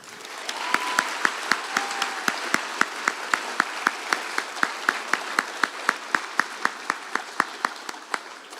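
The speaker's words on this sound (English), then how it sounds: "let's give them a huge round of applause" A school gymnasium crowd at a Veterans Day assembly claps steadily for honored guests, with sharp, evenly spaced claps ringing clearly for several seconds, sounding like a sparse group clapping in unison.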